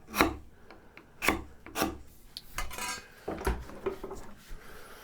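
A hand saw being sharpened in a workshop, a file rasping against the teeth in a string of irregular strokes, each a sharp scraping burst with some metallic ring, fairly close and heard alone.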